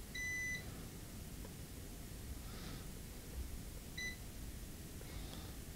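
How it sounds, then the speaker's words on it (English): A multimeter continuity tester beeps while probing an iPhone 15 Pro during a repair: a longer, clear, high tone at the start and a shorter one later, alone against a quiet hiss. "I'm just looking for the beep."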